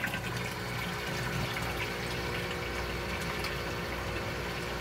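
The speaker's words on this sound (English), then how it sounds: "you can already hear the submersible pump crying for water" A submersible pump in a DIY red tilapia fish tank system runs dry, a constant watery churning and motor drone that lasts throughout at moderate level.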